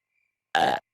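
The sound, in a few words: dog burping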